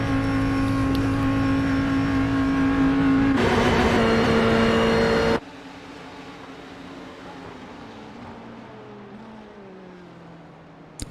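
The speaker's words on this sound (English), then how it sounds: "Ditson comes into the pits. Refueling and tires." Race car engine in a Daytona racing video game, a loud sustained drone with a rising rev burst, then dropping abruptly to a quieter low idle as the car pulls into the pits for fuel and tires, with no talk.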